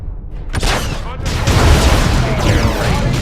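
Space Marines open fire in the Warhammer 40,000 strategy game Dawn of War 2: Chaos Rising, a loud, dense fusillade of rapid gunshots and booming blasts that continues without pause.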